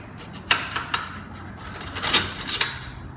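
A PS90 barrel shroud is turned off its threads by hand, giving a few close, sharp clicks and scraping ticks scattered irregularly over a light metallic rustle, with no talking.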